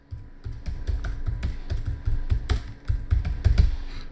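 A document name is typed on a computer keyboard as a quick, close, uneven run of key clicks with short pauses, and no voices.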